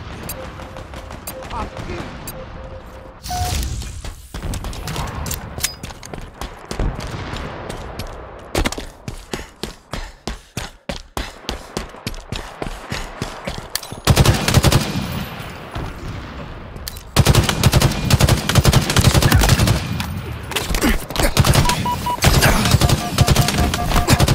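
Gunfire in the video game Halo Infinite, with dense overlapping shots giving way to a fast, evenly spaced automatic burst and then loud sustained firing. Game voices and effects are heard in between.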